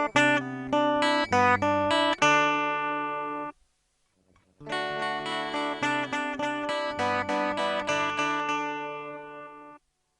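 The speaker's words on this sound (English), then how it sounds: "Acoustically, a simple echo sounds like this." Bright, tuned synthetic notes in a quick melodic run, then a short silence, then the same phrase returning with a plain digital echo that repeats each note and blurs the sequence together.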